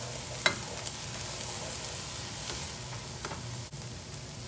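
Minced garlic sizzles in a hot pan as it is stirred, with a steady frying hiss and a few light scraping clicks close by, and no talking.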